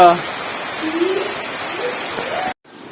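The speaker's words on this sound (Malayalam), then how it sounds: "ഗംഭീര മഴയായി അയ്യോ പെടമഴ" Heavy rain pours down as a steady, dense hiss for a few seconds, then cuts off abruptly near the end.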